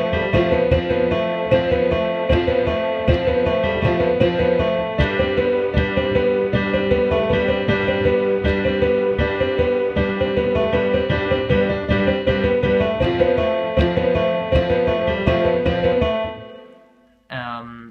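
Piano plays the famous version of the 1954 Gojira theme, a steady, full-bodied run of loud repeated chords and melody that carries on for about sixteen seconds before cutting off sharply, with a brief stray note at the end.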